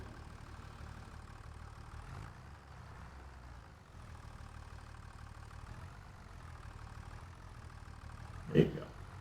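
A tractor engine idles in Farming Simulator 25 as a low, steady drone that dips briefly midway, with a single louder knock near the end.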